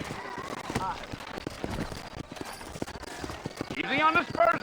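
Horse hooves clip-clopping in the western video game Red Dead Redemption, a loose trotting rhythm of hoof beats under a man's speech.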